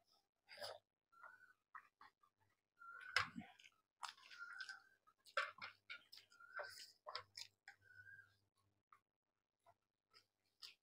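Close, intermittent wet chewing and mouth smacks from someone eating rice with chicken curry and fish egg palak, coming in short bursts separated by near-silence.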